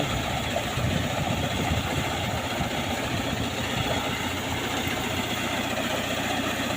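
Engine-driven water pump, a new type powered by a car engine, running steadily with a continuous low idling rumble and vibration, moderately loud and unbroken throughout, with no talking.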